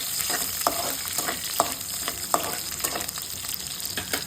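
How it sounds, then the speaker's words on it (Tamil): A handful of garlic sautés in hot oil with popped mustard and fenugreek seeds for okra kara kuzhambu, giving a close, steady sizzle broken by regular scraping stir strokes, with no talking. "ஒரு கையளவு பூண்டு எடுத்து ஆட் பண்ணிக்கோங்க. பூண்டு நல்லா வதக்கிக்கோங்க."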